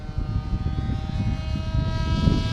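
An FT22 RC model airplane flies overhead with a steady, buzzing propeller drone, loud and continuous throughout.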